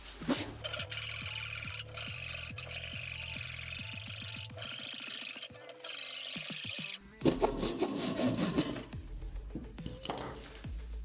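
A garden hand saw rasps back and forth through wood in a garage in a steady rhythm of strokes, then slows and turns to rougher scraping and knocking.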